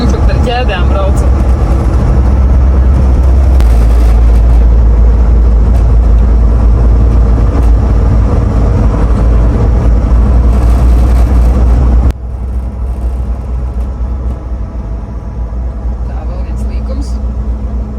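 A car towing a trailer climbs a winding mountain road in California in April with snow chains fitted, giving a loud, steady low engine rumble and road roar that drops to a quieter level partway through.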